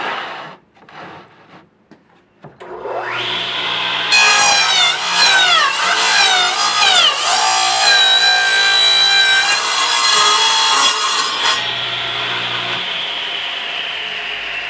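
A Sears Craftsman radial arm saw cuts through a wider piece of wood: the motor whines up, then the blade rasps loudly through the board for several seconds before easing back to a steady spinning hum.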